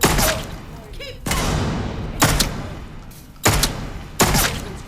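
Gunfire in the video game Atomfall erupts in four loud, close bursts of heavy shooting separated by short gaps, with a voice speaking briefly between them.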